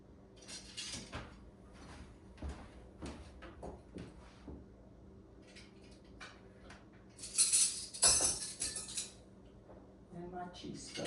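A table knife and teaspoon set down on a table, producing soft scattered clinks and taps of silverware, with a sharper metallic clatter near the end, under and between quiet talk.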